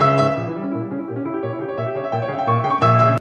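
Beethoven's Moonlight Sonata, Op. 27 No. 2, played on piano as a steady, gentle figure of repeated low notes with melody above, rising to louder chords at the end.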